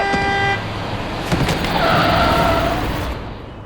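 Car horn honking loudly in a busy road scene amid heavy traffic noise, with a steady tonal blast at the start followed by more horn tones and engine rumble.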